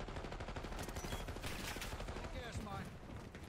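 Assault rifle fire in the Black Ops 6 beta: rapid bursts of gunfire crackling over a dense, noisy mix of game sounds, fairly faint and continuous through the short stretch.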